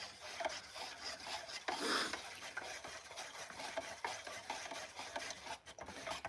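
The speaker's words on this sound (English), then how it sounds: "Just gotta stir my stain here" Wood stain being stirred in its can for aging wooden vampire-stake props, a close, steady scraping and rubbing with a brief louder swirl near the two-second mark, no voices.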